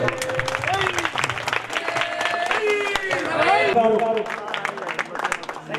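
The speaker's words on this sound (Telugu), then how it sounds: "వారి జన్మదినం గట్టిగా చప్పట్లతో జన్మదినాన్ని మనం వేడుక చేస్తున్నాం" Loud crowd applause at a devotional Ayyappa padi puja gathering in a colony, celebrating a guru's birthday; sustained clapping throughout, mixed with a long melodic tone and background voices.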